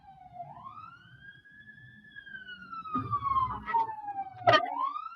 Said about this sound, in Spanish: está pasando una ambulancia por acá donde estoy. Por eso es que se oye un poco de ruido